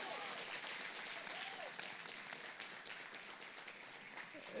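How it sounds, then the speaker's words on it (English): Steady, dense applause from a concert audience for a sarangi player, a continuous wash of many hands clapping at even loudness throughout. "Please give him a big round of applause."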